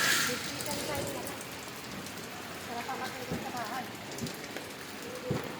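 Rain falls steadily on surfaces at a street vending spot, a continuous patter with scattered heavier drops, while voices talk intermittently underneath.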